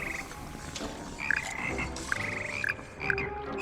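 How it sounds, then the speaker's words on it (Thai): Frogs croaking in the Hogwarts Legacy video game, a series of rhythmic croaks in repeated bursts over steady in-game ambience, fairly close and distinct, with no talking. "ฟังดนตรีกบกันครับ"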